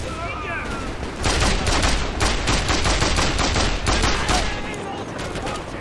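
Heavy sustained automatic fire from an emplaced machine gun in the video game Mercenaries 2: World in Flames, a loud continuous burst running for several seconds over faint game chatter.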